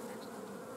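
Honeybees buzz steadily at a hive frame in a small, depopulated nucleus colony headed by a young mated queen, a dense continuous hum, close and fairly quiet, with no voices.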